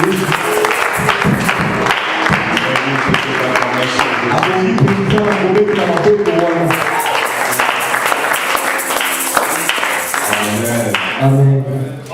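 A church congregation applauds in acclaim during a service, sustained dense clapping from many hands filling the room for over ten seconds, with voices and a speaker audible through it.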